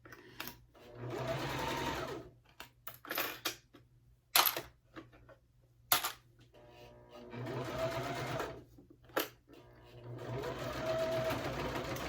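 A sewing machine top stitches a wristlet bag in several fast whirring runs of needle chatter, broken by pauses with sharp clicks, while a person talks in between the bursts.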